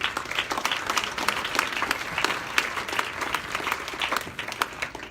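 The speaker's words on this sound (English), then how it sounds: "Please, a big round of applause for Matt." A crowd at a magazine awards event for young professionals bursts into steady, sustained applause for an honoree, thick even clapping from many hands with no speech over it.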